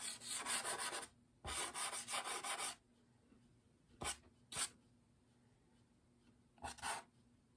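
The corner of a Terry Ludwig soft pastel stick rubs across paper in quiet, scratchy strokes: two longer passes, then a few short dabs separated by silence.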